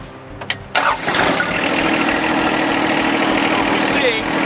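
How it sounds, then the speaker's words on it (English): A John Deere 1025R compact tractor's small engine cranks briefly, catches, and settles into a loud, steady rumbling idle close by. "Now I'm going to start the tractor"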